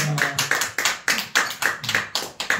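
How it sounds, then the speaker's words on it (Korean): A small church congregation claps in quick, sharp bursts during a Sunday service, a brisk uneven patter of hands close by with no voices. "우리 선교사 오신 박수 한번 쳐주십시오"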